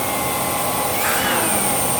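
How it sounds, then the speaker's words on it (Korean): A DSZERO-A dry and wet carpet cleaner runs on a single motor, giving a loud, steady high whine and rush of airflow, with a slight upward pitch shift partway through. "브러쉬가 좀 덜 도는 소리가 들려요."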